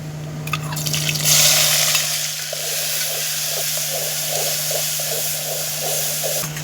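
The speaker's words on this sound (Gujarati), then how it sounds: "ટમાટાનો વઘાર કરવાનો છે" Tomatoes dropped into hot oil for tempering, a loud hiss at first that settles into a continuous bubbling sizzle with a steady low hum underneath and no talking.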